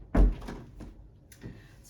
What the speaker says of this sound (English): Oh, hang on, I just have to close my door.